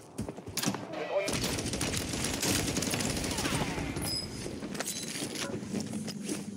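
Automatic gunfire from a weapon in Warzone whose firing rhythm shifts as it keeps shooting: a dense, continuous rattle of rapid shots at steady moderate loudness, broken by a few sharper cracks and metallic clinks.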